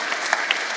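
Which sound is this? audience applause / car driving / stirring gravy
audience applause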